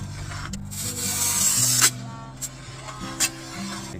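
Glass cutter scoring a sheet of glass along a straight edge, a continuous faint scratchy hiss lasting about two seconds, then a few small clicks and taps nearby.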